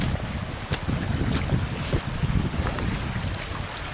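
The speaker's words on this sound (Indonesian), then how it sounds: "sungai aktif sungainya" A swollen river after rain rushes past beside rice fields, a dense, loud, steady roar of flowing water that fills the whole stretch with no voices.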